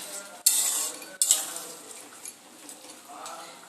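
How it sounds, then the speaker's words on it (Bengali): Crab curry with potatoes being stirred in a pan: two sharp utensil scrapes and clinks against the metal, then soft scraping and a quiet sizzle, close by. "আবারও একবার একটু নাড়া দিয়ে নেব।"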